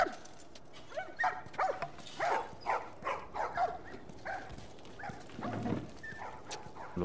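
Several dogs bark in quick repeated bursts across a video game scene from The Last of Us, medium-near and fairly loud, with a few yips and short gaps between volleys.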